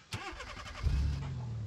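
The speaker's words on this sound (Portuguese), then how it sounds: "Será que o motor liga?" A car engine in the BeamNG.drive driving game cranks with a quick rattling starter whir, then catches and settles into a steady low idle, close and alone.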